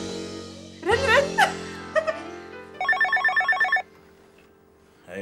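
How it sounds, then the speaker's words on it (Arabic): A telephone rings in a short burst of repeated electronic trills after someone speaks briefly, then falls silent; voices and laughter come just before the ring. "رن رن."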